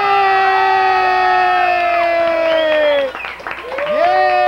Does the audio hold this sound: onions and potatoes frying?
no